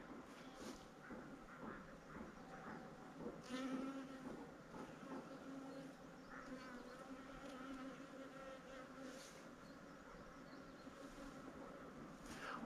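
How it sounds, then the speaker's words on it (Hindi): Honeybees buzz continuously in an open-air fruit orchard in Himachal Pradesh, a soft, wavering hum as insects drift close and away, with no talking. "ये इस तरह की जो मधुमक्खियाँ हैं ये आपको खरबों में पूरे बगीचे में मिल जाएंगी।"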